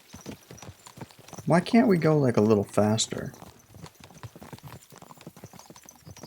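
Horses' hooves clip-clopping at a walk in the video game Kingdom Come: Deliverance II, a quiet steady plodding rhythm throughout, with a person talking loudly over the middle.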